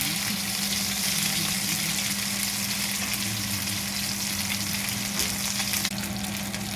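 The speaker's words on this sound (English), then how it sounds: "we have to turn around another time and fry it a little bit more" Chicken pieces fry for a sesame chicken dish in a pan, a continuous dense crackling sizzle that stays loud and steady near the pan with a faint clink near the end and no speech.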